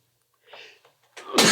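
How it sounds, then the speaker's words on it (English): A single sneeze bursts out close to the microphone after a soft breathy build-up, short and sharp at the end of the pause. "I'm going to sneeze"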